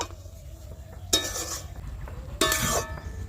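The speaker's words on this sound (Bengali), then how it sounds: "এবার নেড়ে ছেড়ে মিশিয়ে নেব।" Two bursts of scraping and clinking as fried boondi is stirred into sugar syrup in a pot, with a quiet pause between them and no talking.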